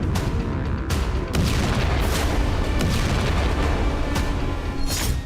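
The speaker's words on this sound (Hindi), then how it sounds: "यूक्रेन ने क्रीमिया में भयंकर विस्फोट किया है।" Heavy explosions in Crimea during the war, a loud continuous roar of blasts and booming detonations with sharp bursts recurring throughout, close and intense with no voices.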